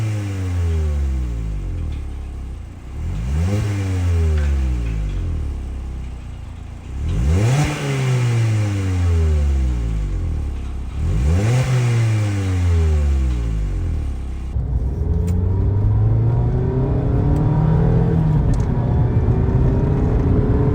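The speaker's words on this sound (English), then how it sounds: "here's just a regular clip of it idling" Mazda MX-5 Miata RF on its stock exhaust, engine blipped in four sharp, rising revs that fall back each time, then settling into a steady, slightly fluctuating drone, loud and close with no voices.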